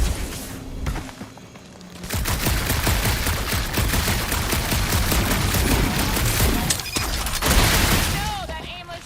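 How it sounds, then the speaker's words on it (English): Dense, sustained gunfire from Marvel's Guardians of the Galaxy crackles through a dark monster planet area, a loud continuous fusillade of rapid shots with booms, and voices talking over parts of it. "that aimless shooting isn't gonna scare the monsters away"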